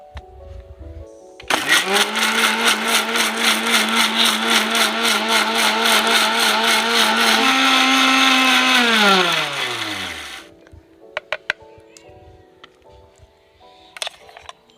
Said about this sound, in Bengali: দিয়ে এগুলো আমি মিক্সারে পেস্ট করে নেব